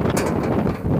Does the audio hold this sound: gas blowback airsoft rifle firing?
no